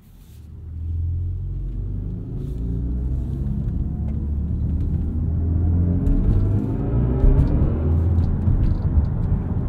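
A 2022 BMW i4 M50 electric car's synthetic drive sound, tuned by Hans Zimmer, swells into a deep, loud, steady humming rumble that rises gradually in pitch as the car accelerates, heard from inside the cabin.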